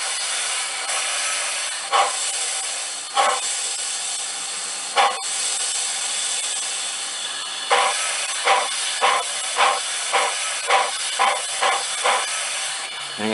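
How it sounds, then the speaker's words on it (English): Steam locomotive hiss played back through a speaker, a continuous broadband hiss broken by rhythmic chuff-like bursts that come closer together toward the end. "that hiss is good that comes with the wow, with the steam"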